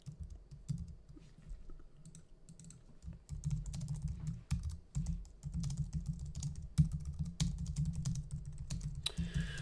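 Someone types a quick message on a computer keyboard during a live crypto trading stream. The keystrokes are soft, low and fairly continuous, with some louder taps, and they carry on alone throughout.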